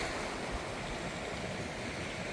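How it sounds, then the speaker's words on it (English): Beach waves in a video game wash in as a soft, steady, faint rush of surf with no break. "Ah, beach water."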